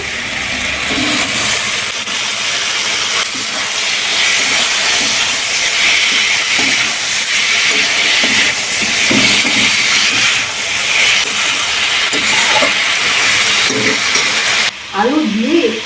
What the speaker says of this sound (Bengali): মশলা থেকে তেল হয়ে গেছে এবারে দিয়ে দেবো সরু সরু করে কেটে রাখা আলু